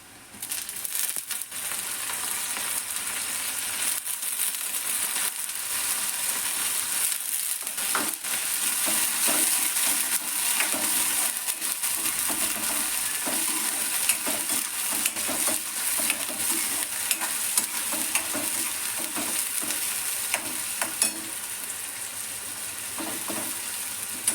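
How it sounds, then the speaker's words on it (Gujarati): Chopped green onions sizzle and crackle steadily in a hot pan while being stirred, a continuous loud frying hiss with scraping stir strokes throughout. "આ થોડી સકળાઈ જાય એટલે આપણે જે લીલી ડુંગળી કટ કરીને રાખી હતી ફ્રેન્ડ્સ, તેને પણ અંદર આપણે એડ કરી દઈશું."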